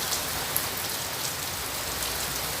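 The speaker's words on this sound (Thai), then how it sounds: "ฝนตกครับ" Out-of-season December rain falls steadily on a surface, a thick continuous patter filling the air with no voices or other sounds.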